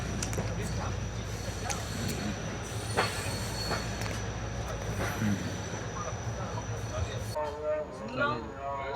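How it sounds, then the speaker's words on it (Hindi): A passenger train departs Khairpur railway station in Pakistan, a steady rumble of rolling wagons with squealing wheels and occasional clanks. Someone talks over the noise, and the rumble fades near the end. "ट्रेन हमारी खैरपुर रेलवे स्टेशन से भी डिपार्ट हो रही है"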